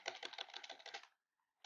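Quick, even run of clicks from typing on a computer keyboard, close and fairly quiet, stopping for a moment of silence before one more keystroke.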